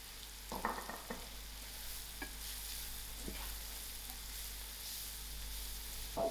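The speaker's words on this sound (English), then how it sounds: "Thereafter, I'm going to add in my carrots, and then I'll allow this to cook for about 3 minutes." Carrots cook in a hot pan for South African chakalaka with a soft, steady sizzle, and a few clinks and scrapes of stirring sound near the start.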